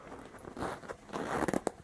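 The zipper on a Louis Vuitton Pochette Metis bag is pulled open and closed, a close rasping slide followed by a few quick ticking clicks of the zip teeth.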